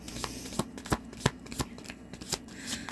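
Tarot cards are shuffled and handled close by, giving a steady papery riffle broken by sharp slaps and snaps at a quick, uneven rhythm, with no voice.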